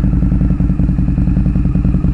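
A 2006 Harley-Davidson V-Rod with aftermarket exhaust idles close by, its engine pulsing in a steady, rapid, loud rhythm with no talk over it.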